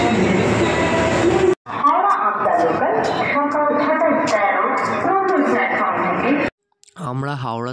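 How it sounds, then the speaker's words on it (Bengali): A local train out of Howrah, an Amta local heading toward Santragachi, rumbles steadily under continuous talk and announcements, with a brief break near the end. "হাওড়া থেকে আমরা এবার লোকাল ট্রেনটা ধরবো দীঘা যাওয়ার।"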